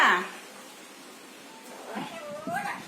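A cat meows a couple of times, a short cry at the start and a drawn-out meow near the end, over quiet background.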